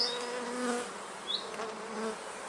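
Honeybees buzz steadily around an open hive during queen grafting, a dense close hum with a few individual bees whining past the microphone, no talk.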